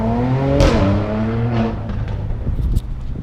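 A BMW E36 pulls away on a test drive after a steering rack job, its engine rising and falling through a couple of gear changes, close and steady with no talk.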